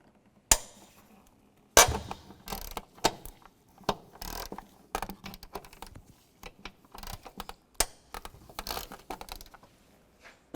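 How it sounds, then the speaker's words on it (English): Bolts being removed with a 13mm socket wrench from a 2003-2010 BMW X3 during an ignition coil job: a run of sharp clicks and ratcheting bursts, close and fairly loud, with short pauses between turns. "Take these bolts out here, use a 13mm socket."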